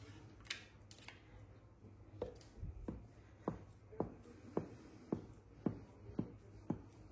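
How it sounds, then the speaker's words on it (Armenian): A knife cuts into a square tiramisu-flavored ice cream cake with a run of faint, evenly spaced taps and clicks, roughly two per second, close by and otherwise quiet. "Հիմա կտրատենք, տեսնենք, թե ինչպիսին է ներսում"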